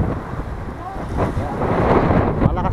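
Strong wind at San Benito Fort on Siargao Island buffets the microphone in a continuous rough roar, gusting louder toward the end.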